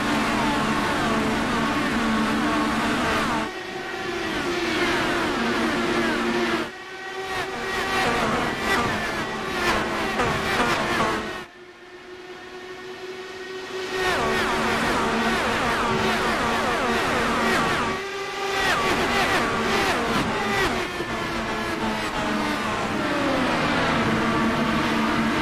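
Several race cars roar away from a green-flag start at Twin Ring Motegi in a sim racing game, with loud sustained engine drones rising through gear changes, brief dips between shifts, and layered motors close by.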